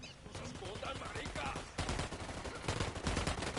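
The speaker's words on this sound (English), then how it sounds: "I'm opening fire." Rapid bursts of video game gunfire from a PS4 shooter, sustained and dense across the moment with a sharper volley partway through, mixed with game sounds and faint voices underneath.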